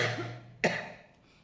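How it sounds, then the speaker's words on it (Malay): A single short, sharp cough close to the microphone, set against a quiet indoor background. "Sorry, batuk pula."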